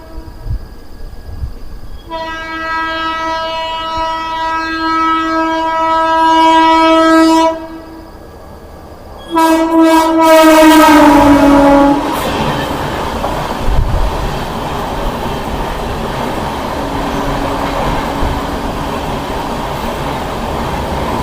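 A goods train rolls past near Begampura, its horn sounding in long sustained blasts twice, followed by a loud, steady roar and rumble of wagons that continues to the end.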